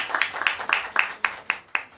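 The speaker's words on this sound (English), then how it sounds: "Can we all have a clap?" Claps at a press conference for the Australian film The Rooster at the 55th IFFI, a steady rhythm of about four sharp claps per second, fairly close and clear, with no talking over them.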